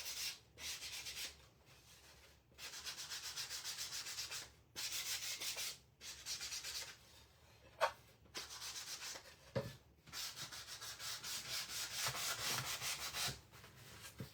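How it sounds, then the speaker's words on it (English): Sanding along wood edges for handmade farmhouse Christmas decor, made of repeated rasping strokes in bursts with short pauses, close and fairly quiet. "Sand the edges."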